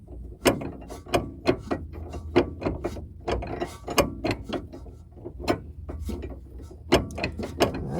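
Ratcheting on a stabilizer bar bolt of a 6th gen Dodge Charger R/T during a sway bar swap, a close series of sharp mechanical clicks in bursts of irregular rhythm, fairly loud and alone.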